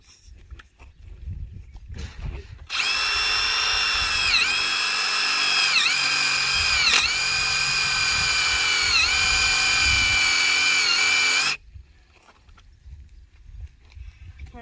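A single sustained run of an electric drill boring through a wooden fence post, loud and close, with the motor's whine bogging down briefly several times under load before stopping.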